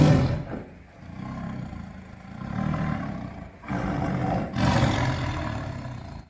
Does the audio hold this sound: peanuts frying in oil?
no